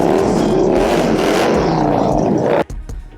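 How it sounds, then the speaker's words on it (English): Motorcycle exhausts and engines rev and rumble loud and close at a motorcycle club gathering in Houston, a dense, steady roar that cuts off sharply near the end, leaving quieter engine noise. "Other clubs pulled up as well, with their exhaust and motors humming to the tune that every biker loves to hear."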